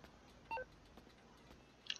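A phone call is dialed in Grand Theft Auto V, heard as a short, quiet cluster of electronic dialing tones followed by faint clicks and a small beep at the end, with no talk.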